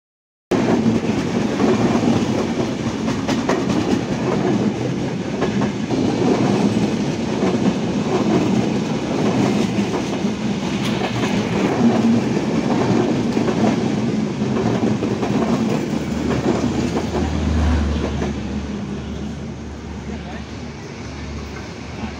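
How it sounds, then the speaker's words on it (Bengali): The Chitra Express pulls out of Majhgram Junction with a loud, continuous rumble and clickety-clack of wheels on rails that holds steady before easing slightly near the end, with voices faintly present under the noise. "আমাদের ট্রেন ছেড়ে দিল মাঝগ্রাম জংশন"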